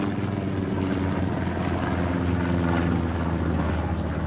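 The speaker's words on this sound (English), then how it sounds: "That's their scouting plane as well." An enemy scouting plane in the WWII game Hell Let Loose, defending Sainte-Mère-Église, drones overhead as a steady, loud propeller-engine roar that holds throughout without a break.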